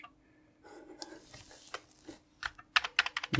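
Close, quiet key presses on an Amiga A600 computer keyboard with British layout start sparse and build into a faster burst of clicky typing at the end.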